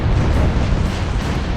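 An aircraft explodes on a runway during takeoff in the combat flight game Nuclear Option, a loud, dense roaring blast with sustained rumbling debris noise filling the whole moment.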